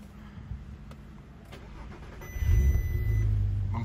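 Audi TT 3.2 VR6 with a Stage 1 ethanol tune of 270 horsepower cranks and fires up, then settles into a deep, rising idle rumble close by.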